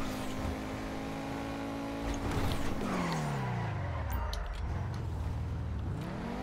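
A car engine in a driving video game revs hard. Its pitch climbs, then sweeps down and rises again, loud and close without pause.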